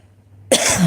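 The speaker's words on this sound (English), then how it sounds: "I'm coughing a lot now" After a quiet moment, a sudden harsh cough erupts close by, rough and loud through to the end.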